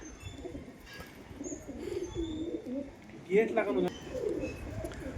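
A pigeon sitting on a rooftop gives soft, low repeated cooing, faint and close, over outdoor background noise, with a louder burst of coos near the end and a voice murmuring in the background.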